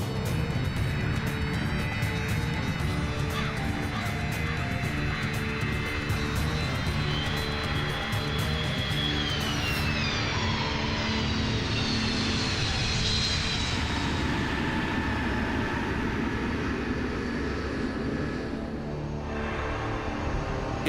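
A C-5 military transport aircraft approaches touchdown on an airstrip at Balad, a loud continuous engine roar with a high whine that rises and sweeps, then the roar eases and fades somewhat toward the end.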